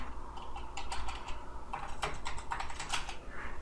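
Quiet, close typing on a computer keyboard while coding in CodePen, a brisk patter of irregular key clicks.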